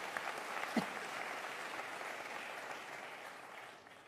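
A large crowd applauds at a political rally in Paris's La Mutualité, the clapping steady and dense throughout, then tapering off toward the end.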